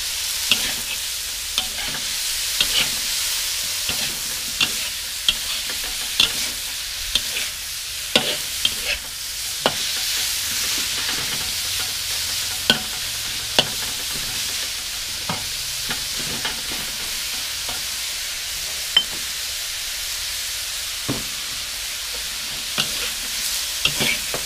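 Spicy wild boar being stir-fried with fresh chilli, garlic, pepper and lemongrass, a loud steady sizzle with repeated sharp scrapes and clacks of a spatula against the pan, continuing throughout without talk.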